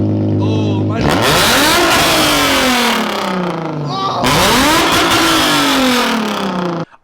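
A straight-piped Infiniti G35 engine revs hard twice, each time surging to a loud, raspy peak before the pitch slowly sinks back down. The exhaust is very loud and up close.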